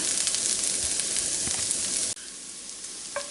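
Onion frying in butter in a pan, with a loud steady sizzle that suddenly drops to a quieter hiss partway through, then a faint clink.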